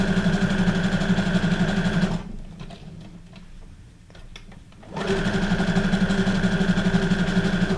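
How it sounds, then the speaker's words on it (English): A sewing machine runs a zigzag stitch through a paper journal card made from a guest check, a steady close mechanical whir that stops for a few seconds midway and then resumes at the same pace. "And I'm just going to do the zigzag stitch."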